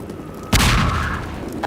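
A single sharp gunshot blast in Half-Life 2 while shooting at snipers, loud and close, breaking out of quiet and trailing into a rumbling decay.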